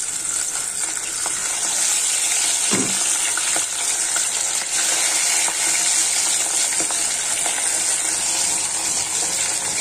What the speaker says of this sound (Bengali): এখন মাছটি ভাজে নেব, তেলটাও গরম হয়ে গিয়েছে